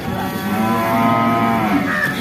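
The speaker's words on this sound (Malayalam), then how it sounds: "ഇതെന്താ എരുമ?" A water buffalo lets out a single long, loud, close moo that holds steady for about two seconds before tapering off.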